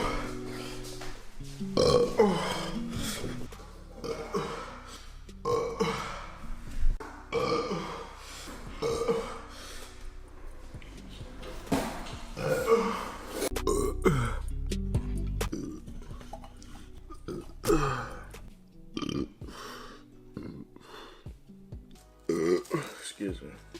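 A man burps over and over, loud close belches scattered through a burping contest, with people talking and laughing between them.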